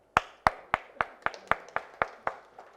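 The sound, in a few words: audience applause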